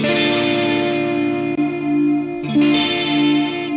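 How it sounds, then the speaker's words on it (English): Sustained electric guitar chords through a Donner Arena 2000 analog chorus effect, shimmering and swirling, ringing out steadily with a brief change of chord partway through; no talking. "Chorus."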